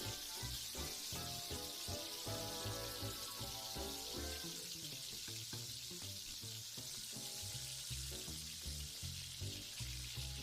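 Egg batter sizzles steadily in a frying pan coated with cooking spray while a heart-shaped breakfast omelette is made, a continuous close crackling hiss with some bright musical tones underneath.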